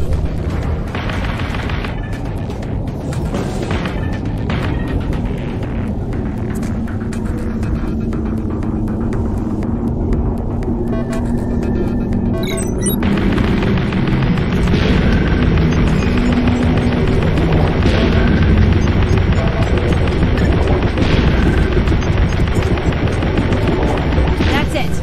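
Underwater combat in Aquanox Deep Descent: a loud, continuous throbbing drone of rapid weapon fire with repeated booming impacts and explosions, sustained throughout without a break.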